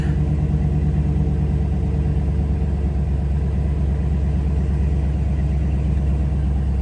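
A 2021 Dodge Challenger engine running at idle, a steady low rumbling hum that holds even and continuous from start to finish with no speech over it.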